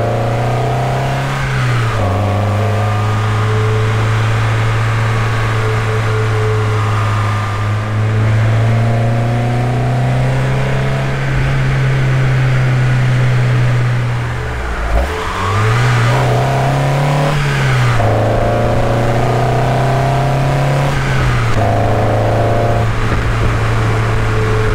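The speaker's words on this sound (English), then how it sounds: "you can use those audio samples with any clip of this car driving" A car driving with its engine accelerating through the gears, a loud close engine drone climbing in pitch, dropping at each shift and climbing again, with no talk.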